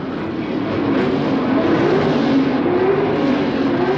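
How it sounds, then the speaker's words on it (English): A Chevrolet Monza drag race car with a small block Chevrolet engine roars loud and steady at a 1978 drag racing event, its engine note rising and dipping slightly throughout. "A Chevrolet Monza, small block Chevrolet engine."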